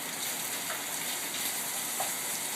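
Ground meat browning in a hot pan for shepherd's pie, a loud continuous sizzle and crackle with steady bright hiss and occasional pops, no voices.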